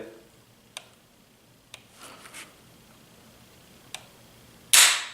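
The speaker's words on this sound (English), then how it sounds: "2-stage trigger. Click." An M1A Loaded rifle's two-stage trigger gives a few sharp, close, isolated clicks spaced a second or two apart, then a louder burst of noise at the end.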